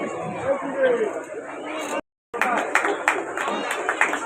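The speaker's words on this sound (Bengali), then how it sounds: "করতালির মধ্য দিয়ে তাকে আমরা অভিনন্দিত করছি" An audience applauds to welcome a guest at the office inauguration of the Dr. Syama Prasad Mookerjee Adarsha Mancha: scattered clapping mixes with crowd chatter and voices, broken by a brief silent gap.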